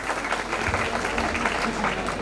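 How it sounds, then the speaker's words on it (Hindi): A dense, continuous wash of audience applause at a physiotherapy college farewell party, loud and steady throughout with voices faintly mixed in. "तालियां बजती रहनी चाहिए भाई,"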